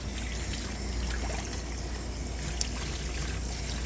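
Running water rinses a small white Coton de Tulear dog in a tub during grooming, a steady splashing trickle and pour with no talk over it.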